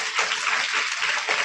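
Audience applause after a Hindi poetry recitation at a school event, a dense, steady wash of many hands clapping that holds evenly loud from start to end.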